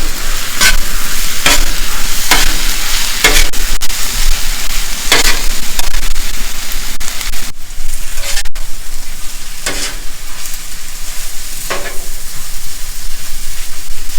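Rice mixed with oyster sauce and soy sauce is stirred and scraped on a hot barbecue, with repeated spatula strokes over a continuous loud sizzle and occasional sharp clacks.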